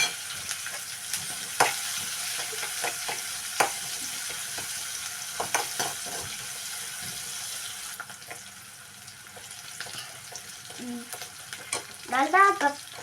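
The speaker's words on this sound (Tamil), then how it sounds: "இப்போ உப்பு போட்டுக்கிட்டு கருவேப்பிலை வதக்கி விட்டுக்கோங்க." Onion and curry leaves sautéing with salt in a pan give off a soft, steady sizzle, with sporadic stirring scrapes and clinks close by. A brief voice comes in near the end.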